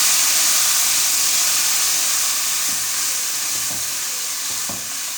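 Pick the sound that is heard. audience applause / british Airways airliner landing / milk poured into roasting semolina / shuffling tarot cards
milk poured into roasting semolina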